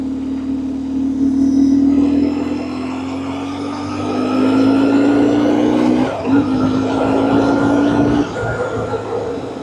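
A motorcycle rides along a suburban road, its engine droning steadily and climbing in pitch as it accelerates, with a brief shift partway through and wind rush around it, loud and close.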